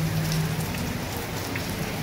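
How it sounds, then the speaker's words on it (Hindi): Heavy rain falls on Independence Day, 15 August, as a steady, dense hiss of drops drumming on surfaces throughout the short stretch, with no voices. "गाइस 15 अगस्त पे ऐसा आज तक नहीं हुआ था कि बारिश ना आए, पर इतनी तेज नहीं आई थी।"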